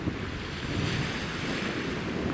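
Waves of the Sea of Azov wash onto a sandy beach near Temryuk while steady wind roars across the microphone, a dense continuous surf-and-wind noise with no voices.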